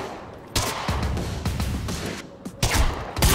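Gunfire in the Quantum Break video game: a quieter lull, then sharp, close shots and rapid bursts in irregular clusters, loud and punchy, with a brief dip before a final heavier volley.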